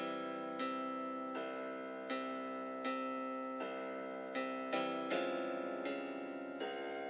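Vocal practice scale played by the Tuned XD app: a sequence of sustained tuned notes, about a dozen in steady rhythm, each onset clear and rich in harmonics, rising and falling across the scale with no voices present.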